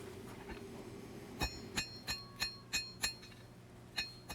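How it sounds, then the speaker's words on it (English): A hammer strikes steel while forging the bevels of a double-edged Arkansas toothpick knife blade. About nine sharp metallic rings come at a steady, close rhythm over a low hum of the workshop. "Now I'm pulling steel down from the center line, and I'm working both sides, trying to work both sides evenly."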